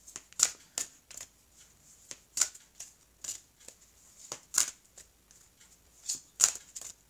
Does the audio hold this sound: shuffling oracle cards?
yes